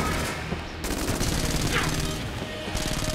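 Rapid gunfire from a gun in the video game Enter the Gungeon rattles in dense, continuous bursts, loud and close, with brief pauses between volleys.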